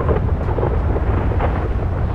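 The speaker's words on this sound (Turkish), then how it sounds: "Böyle bir ne bileyim şimşek çarpsın ya." Thunder rolls through a storm in GTA 5: a loud, continuous deep rumble that lasts the whole stretch, with no talking.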